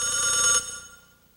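A telephone rings with a bright electronic trill that cuts off abruptly partway through, leaving a fading tail and then near silence.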